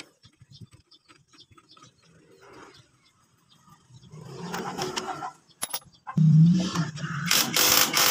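Ratchet tightening the magneto bolts on a motorcycle, first as faint, light clicking, then louder metallic clatter and handling noise near the end.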